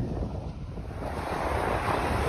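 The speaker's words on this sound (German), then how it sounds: "Das ist es jetzt, das Tote Meer." Waves washing against the salt-crusted shore of the Dead Sea, a continuous close rush of surf mixed with heavy wind buffeting the microphone.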